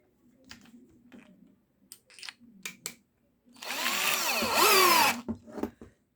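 A JPT 21V cordless drill in screwdriving mode at second speed drives a 1.5 cm screw with a bit from an Inco 30-piece set, giving a loud sustained whir of about a second and a half after several short clicks and bursts.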